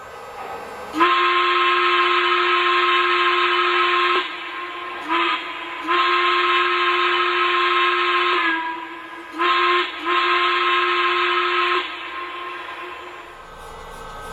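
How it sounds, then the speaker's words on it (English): A Lionel C&O 2-6-6-2 Mallet model train's steam whistle effect sounds in several loud blasts, some long and some short, mixed with steady hiss. No one talks. "Here's the whistle steam effect."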